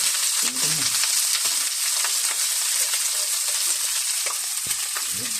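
Garlic fried rice (sinangag) sizzles loudly in a pan, a dense crackling hiss with occasional scraping stirs and soft clinks, close up and without talk.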